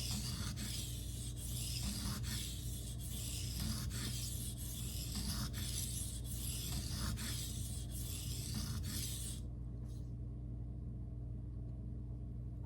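A knife blade sharpened freehand on a Shapton Glass whetstone gives a steady rasping scrape in rhythmic back-and-forth strokes. The strokes stop near the end, leaving a low rumble.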